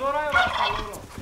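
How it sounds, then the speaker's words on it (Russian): A bronze turkey tom on a farm gobbles loudly and close, one rapid warbling rattle lasting about a second. "А здесь мы видим бронзовая индейка."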